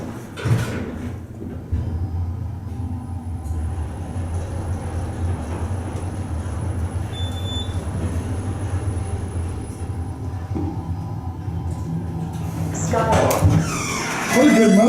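An MRL traction elevator motor in a skyway building in St. Paul runs with a steady low hum and broadband rumble for the whole stretch, with a voice talking over it and a brief rattling swell near the end.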